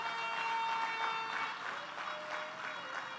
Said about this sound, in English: that deserves a round of applause